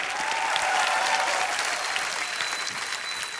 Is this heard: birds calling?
no